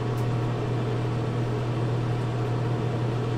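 A microwave oven runs steadily while cooking a chicken pot pie, giving a constant loud hum and whirring fan noise with no break and no talk.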